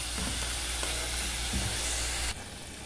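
Meat sizzles in a frying pan with garlic and onion for a pan lasagna, a steady close hiss with small crackles and stirring knocks, dropping abruptly quieter near the end.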